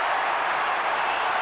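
A big Australian football crowd at a 1992 Hawthorn versus St Kilda match roars and claps for a St Kilda goal, a steady, dense wash of cheering and applause heard at a distance.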